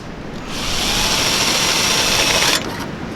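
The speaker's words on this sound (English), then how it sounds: "Now I'll take the drill with the 5/16 bit in, we'll go down through the top" An electric drill with a 5/16 bit spins up against a metal mounting bracket, a steady high whine lasting about two seconds before cutting off abruptly, close and alone.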